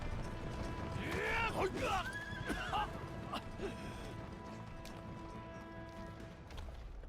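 A horse neighs and whinnies loudly in the video game Wo Long, with hoof clip-clops and a tumble as the rider falls off, all over a continuous game soundtrack.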